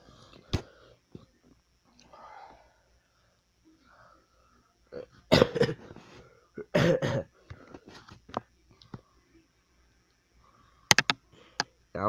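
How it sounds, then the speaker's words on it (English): Several sharp, separate coughs and throat-clearing bursts break a mostly quiet stretch, with faint whispering between them. "That's why I'm coughing like that."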